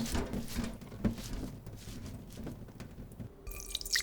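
Washed mugwort draining after three rinses in water, with scattered drips and small trickles falling close by, fairly faint, ending in a brief brighter splash.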